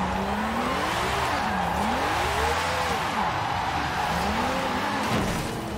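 A Lamborghini drifting in the racing game Forza Horizon 5, its engine note sweeping up and down in loud waves as it slides through corners, with a steady rush of tire and road noise underneath and no talking.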